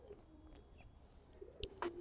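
A pigeon of the Lal Badshah bloodline coos softly close by, a few low murmuring calls rising near the end over a quiet background.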